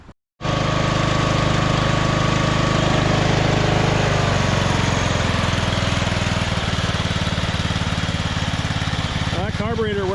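The small engine of a 1998 MTD lawn tractor, now fitted with a new carburetor, starts after a brief pause. It then runs loud and steady at a constant speed for about ten seconds, with a short burst of talk near the end.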